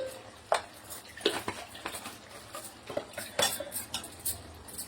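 A metal teaspoon clinks against a cooking pot while garam masala goes into Telangana-style gongura chicken, several sharp irregular taps and scrapes, close and moderately loud.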